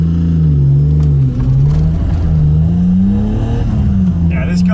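A BMW E34 M5 engine revs hard and steady while the car drifts, its loud droning pitch rising and falling close up, with a brief squeal near the end and voices in the background.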